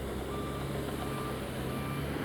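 A stone-hauling truck at a house construction site sounds its reversing alarm, a steady series of evenly spaced beeps over continuous engine and site rumble.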